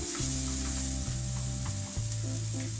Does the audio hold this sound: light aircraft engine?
no